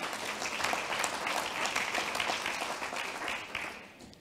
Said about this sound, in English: Big applause to them also.